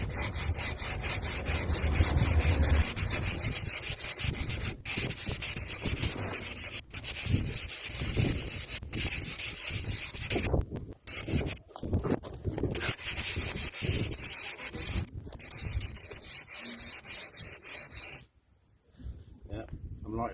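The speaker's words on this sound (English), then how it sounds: "So I'm going to give it its first sand over with my new tool." A new hand sanding tool rubs over body filler on a BMW panel, making a steady, close, loud scraping drone with brief pauses and a few strokes changing pace.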